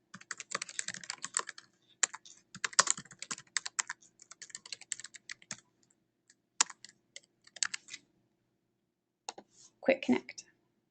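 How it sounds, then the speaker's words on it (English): Computer keyboard typing, with clusters of quick, close clicks that come in irregular bursts and pauses, ending in a slightly heavier flurry of keystrokes. "I'm going to type all this in."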